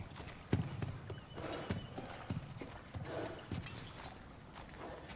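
Hooves of a Kelpie steed from God of War Ragnarok clip-clop in steady steps, with a short whinny, up close over a soft ambient bed.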